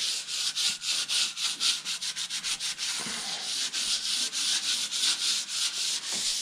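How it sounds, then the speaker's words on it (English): Steady, brisk sanding strokes rasp across a wood surface in a quick back-and-forth rhythm with the grain, a light scuff sanding before wood filler and paint, close up and continuous, with no talking. "this sanding is just a light sanding before I put the wood filler on"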